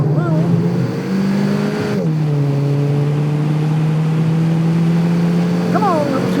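A Volkswagen Golf GTI accelerates hard on a hot lap, its engine note climbing through the revs, dropping briefly at a gear change, then pulling on again, loud and close with some speech over it.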